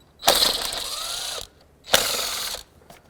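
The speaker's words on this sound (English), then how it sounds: "I'm going to take this engine cover right off with the two 10mm nuts here." A ratchet loosening two 10mm nuts on the engine cover of a 2002–2006 Toyota Camry, heard as two close, loud bursts of rapid clicking, the first about a second long and the second shorter, with no talking.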